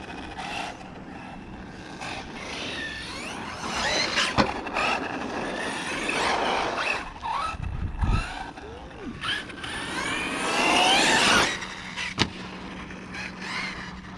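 Team Corally Shogun XP 6S RC truggy on its first run: a high motor whine sweeps up and down as it accelerates, with sharp tire squeals and scuffs, loud and close.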